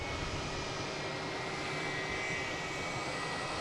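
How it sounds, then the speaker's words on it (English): An Airbus A321neo jet takes off on a London Heathrow flight, giving a steady, loud broadband engine roar with a faint high whine, continuous throughout and without voices. "Now we got flight 1620 taking off on 15 right, heading to London Heathrow. An A321neo."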